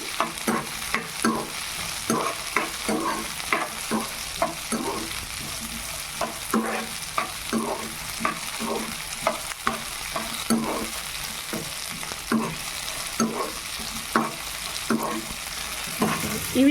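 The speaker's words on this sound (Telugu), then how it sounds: "కొంచెం టేస్ట్ కోసం వెల్లుల్లిపాయ ఇది కాస్త బాగా ఫ్రై అవ్వాలి" Garlic frying in a pan for a village-style coconut chutney, a steady sizzle broken by regular scraping stirs, close and continuous with no speech.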